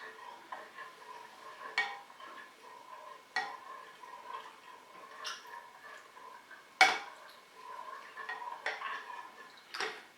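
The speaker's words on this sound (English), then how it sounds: "I'm going to mix that in one by one so they don't end up with any lumpy bits" A spoon stirs gelatin leaves into a rhubarb and honey jelly, making faint, irregular clinks and taps against the bowl with quiet pauses between them.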